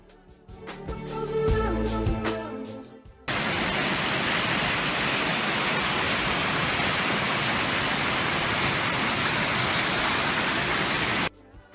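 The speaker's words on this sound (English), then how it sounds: "The Milla Falls consist of different types of waterfalls." Steady, dense roar of Millaa Millaa Falls in Australia fills most of the clip, loud and continuous, after a short stretch of music at the start.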